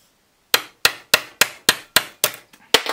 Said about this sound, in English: Then I'm gonna hammer it out.